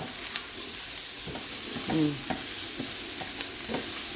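Food frying in a pan while being stirred slowly, a steady hiss of sizzle under intermittent gentle spatula scrapes and clinks.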